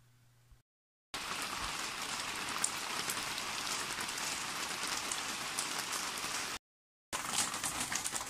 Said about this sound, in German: Ein schöner kleiner Regenschauer.